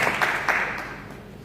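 A church congregation applauds itself during a service, a short burst of clapping that rises at the start and then tapers off, with no voices over it.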